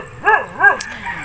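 A dog gives two short, yelping bow-wow barks close by, followed by a softer whine, in a rural farm setting during land preparation for planting string beans.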